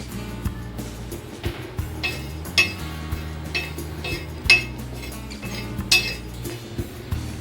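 Roasted black peppercorns and other dry-roasted whole spices are pounded coarsely, giving sharp metallic clinks and thuds in an irregular rhythm, close and fairly quiet, with no talking.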